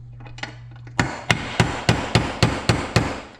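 A socket is hammered to tap a heated part out of a Kawasaki KFX 450R quad. After one faint early knock come eight sharp, evenly spaced metallic hammer blows, close and loud.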